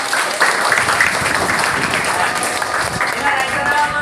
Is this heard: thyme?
no